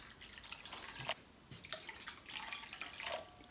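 Water pours and splashes into a kadhai (wok) holding sugar to make syrup, a close, continuous trickling and dripping with brief pauses, no talking.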